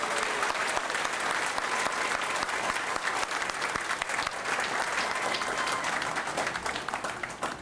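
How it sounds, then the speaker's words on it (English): Steady applause from a school audience honoring mothers and grandmothers at an elementary school dads' event, a dense continuous clapping that stays loud and even throughout with no talk over it. "join in applauding for our mothers and grandmothers and all."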